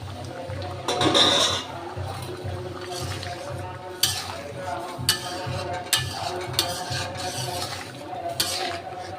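Stirring and clinking in a pot as cumin paste and garam masala go into simmering dal with fish, a steady bubbling sizzle under several sharp utensil knocks against the pan.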